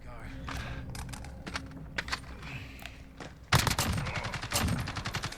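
An AUG HBAR rifle fitted with a compensator fires in Call of Duty Modern Warfare: sparse clicks and scattered shots give way to a loud, rapid automatic burst of close, sharp reports.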